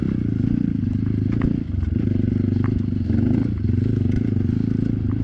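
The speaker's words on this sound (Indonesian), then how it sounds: "ini terlihatnya mudah ya untuk mengendarai motor trail di jalur yang seperti ini" A trail motorcycle rides an off-road adventure track in West Bandung, its engine droning loud and steady with rattling, scraping clatter from the rough ground throughout.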